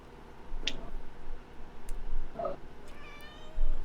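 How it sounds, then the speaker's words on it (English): A cat meows in short, separate bursts, two or three distinct calls over a few seconds, close and fairly clear over a low background hum, with no talking. "She's meowing."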